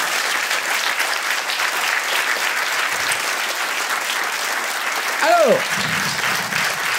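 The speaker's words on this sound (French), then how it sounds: "vous pouvez applaudir" Sustained applause from a comedy club audience in Liège fills the room, dense and steady, with a voice speaking over it briefly near the end.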